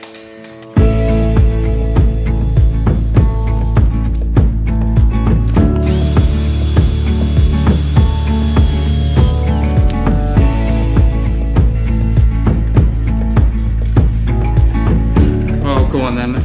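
Drill converted into a collated screw driver, a loud close whir with repeated ratcheting clicks as screws are driven in series.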